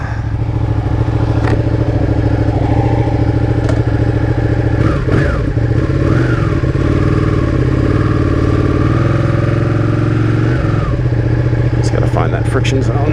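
A Ducati Panigale 1299 sport motorcycle idles close by with a loud, steady, rumbling throb, and someone talks over it.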